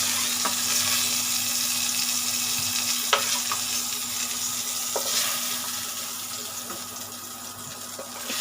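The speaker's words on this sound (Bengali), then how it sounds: "আর একটু স্লাইড ভাজা হবে, তারপরে তুলে নেবো।" Slices of pointed gourd frying in hot oil in a home kitchen give a steady, dense sizzle with occasional soft clicks of stirring throughout, close and fairly loud with no talking.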